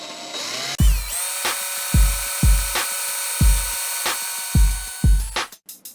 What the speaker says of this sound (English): We're going to set our drill to spin counterclockwise now, and we're just going to slowly start twisting it together here.